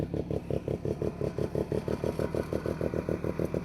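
A 1971 Arctic Cat Panther 303 snowmobile with a Wankel rotary engine idling: a steady, rapid chugging pulse of even beats, close and moderately loud, with no voices.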